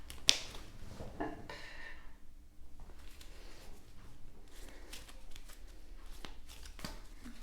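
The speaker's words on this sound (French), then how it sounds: "Alors, on y va, je remets des cartes." Tarot or playing cards are shuffled and handled close up, giving a brief riffle, soft flicks and light snapping sounds with quiet pauses between them, all fairly faint.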